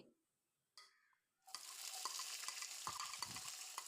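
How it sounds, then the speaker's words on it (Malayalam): Chopped shallots hit hot oil and start sautéing for a traditional Kerala prawn dish. A few quiet knocks come first, then a loud, steady sizzle with crackling bursts fills the rest. "എണ്ണ നന്നായിട്ട് ചൂടാകുമ്പോൾ നമ്മൾ അരിഞ്ഞു വെച്ചിരിക്കുന്ന ചെറിയുള്ളി ഇതിലേക്ക് ഇട്ട് കൊടുക്കാം"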